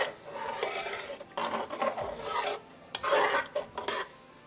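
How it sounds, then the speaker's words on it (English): Mushroom curry stirred in a pot after water is added, close scraping and sloshing strokes in three or four rhythmic bursts with brief pauses between, no talk. "Mix it well."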